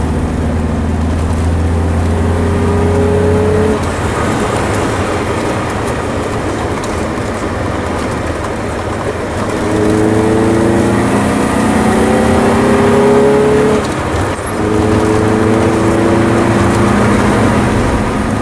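A 1983 Alfa Romeo Sud 1.5Ti driven hard through corners, its engine note rising and falling in repeated revving pulls with gear changes, loud and close with steady road noise underneath.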